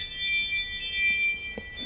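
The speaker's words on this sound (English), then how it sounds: "That's my ring doorbell, not yours." A Ring doorbell chime rings out in an indoor room, a clear, bright, sustained electronic tone with layered pitches that carries on alone for nearly two seconds.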